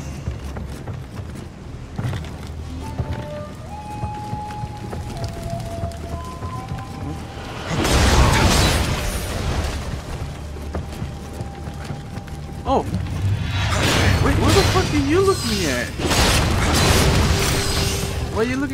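Booming cannon blasts and bursts ring out from game action in Nioh, loud and close, over a steady mechanical bed with tonal effects.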